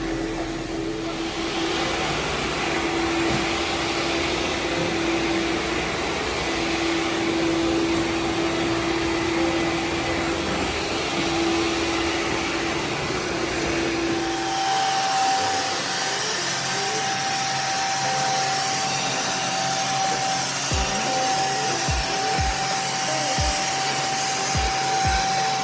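Wet vacuum drones steadily while sucking up stripped residue from a VCT floor, a loud continuous motor whine that shifts pitch midway, with a few low thumps near the end.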